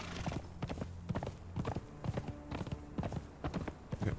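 A horse's hooves clip-clop in a quick, steady rhythm of sharp close knocks in the Conan Exiles video game, clear and fairly prominent over a soft game ambience, with no talking.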